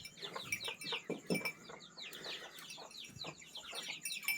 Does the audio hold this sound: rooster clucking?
yes